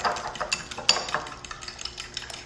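Eggs whisked in a bowl for chocolate lava cake, a steady scraping and clinking of the whisk against the side with a few brighter ticks, close and moderately quiet, no talk.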